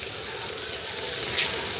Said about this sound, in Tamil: தண்ணீர் போடுங்க